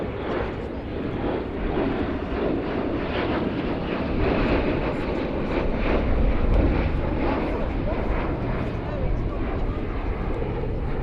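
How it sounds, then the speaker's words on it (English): An RAF Wedgetail AEW1 airborne early warning jet flying past at the RIAT 2025 airshow, a loud, broad engine roar that swells toward the middle and stays steady, heard at a distance with a public-address commentator talking over it. "In from the right then, the new Wedgetail"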